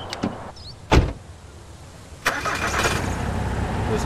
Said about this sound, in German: wir nehmen mal den Pickup und fahren mal ein Stück weiter